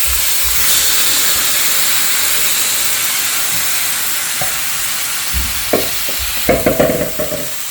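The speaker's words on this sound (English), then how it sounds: "we're just going to take our meat and throw it on in" Marinated venison hitting an oiled skillet over high heat, with a loud, steady hiss of searing and a run of clattering knocks and sizzle bursts toward the end as the meat goes in.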